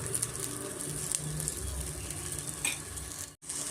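Ridge gourd and raw banana slices frying in oil on a flat tawa, a close, continuous crackling sizzle with occasional soft spatula contacts, heard alone without talk.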